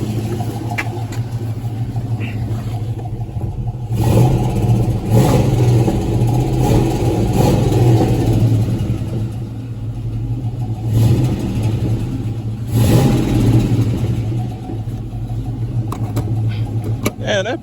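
Box Chevy car engine running and revving, a low steady idle rumble broken by several rising revs, loud and close, with someone talking over it.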